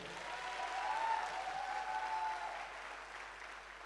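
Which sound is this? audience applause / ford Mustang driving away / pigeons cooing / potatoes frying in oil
audience applause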